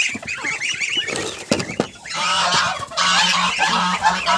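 Several geese honk loudly and repeatedly at close range, their calls overlapping in bursts and rising to a dense chorus.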